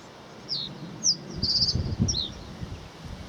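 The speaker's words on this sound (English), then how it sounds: "No, in fact it was a reed bunting." A reed bunting gives short, high, thin warning notes, a handful of separate chirps spaced irregularly at moderate distance outdoors over a soft background of low rustling, with no talking.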